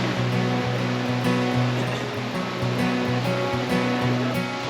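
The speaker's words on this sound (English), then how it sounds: "And there it is, the Waimea Waterfall." Rushing water at Waimea Waterfall in Waimea Valley, Hawaii: a loud, constant roar of falling water, broad and unbroken, with faint tonal hum and clicks beneath it and no talk.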